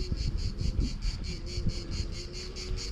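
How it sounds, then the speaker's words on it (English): Cicadas in a medieval Provençal hillside village, a loud pulsing buzz repeating in rapid regular beats, steady and close, over a low background rumble. "Cicadas making an awful lot of noise."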